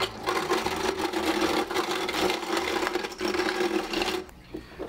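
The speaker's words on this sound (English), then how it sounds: "I'm gonna use this vintage ice chipper to get it down to size." A vintage hand-cranked ice chipper crushes homemade ice into small pebble ice for a tiki cocktail, a loud, steady grinding clatter that runs almost continuously and then tapers off near the end.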